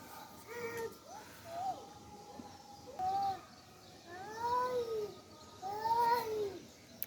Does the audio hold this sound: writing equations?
no